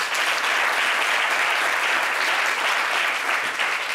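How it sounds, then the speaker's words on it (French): A studio audience claps loudly and continuously for a young rapper on a TV show, a dense, sustained burst of applause with no voices over it. "On va applaudir pour ce jeune homme."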